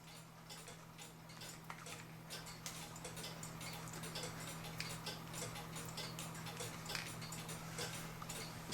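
A German-made Linden Blacksmith mechanical clock ticking steadily and evenly, close and fairly quiet, over a constant low hum.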